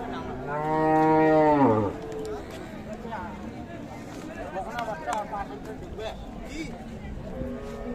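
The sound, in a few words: cow or bull calf mooing at a cattle market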